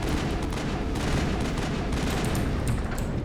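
Grenade blast and heavy gunfire in the Mass Effect video game, a dense, continuous loud barrage of combat noise filling the whole stretch with no voices.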